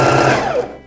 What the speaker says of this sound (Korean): 처음에 다림질했던 그대로 편안하게 잡고 2mm 정도 박음질 하시면 돼요